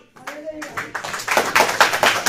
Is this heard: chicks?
no